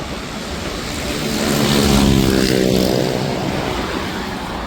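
Motorcycles roar past during a Kanwar pilgrimage procession from Haridwar, a loud motor swelling to a peak in the middle and then easing off, with a steady hum of traffic around it.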